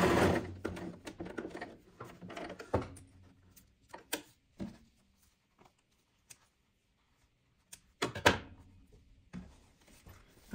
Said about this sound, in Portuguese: Agora vamos colocar aqui frente com frente, tecido principal e costurar.